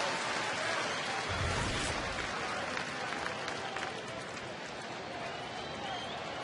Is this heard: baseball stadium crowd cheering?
yes